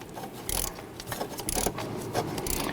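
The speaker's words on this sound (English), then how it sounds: "Now I'm going to use my ratchet and my shallow 10 millimeter socket to go ahead and loosen this." A ratchet with a shallow 10 mm socket loosens a nut on a Jeep Wrangler exhaust manifold, giving several short bursts of quick ratcheting clicks at close range with no talk.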